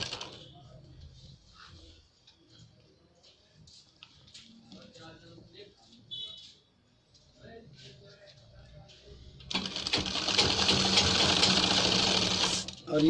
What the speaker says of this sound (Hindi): ये देखिएगा, इस पे हमने लब की सिलाई लगाना स्टार्ट किया।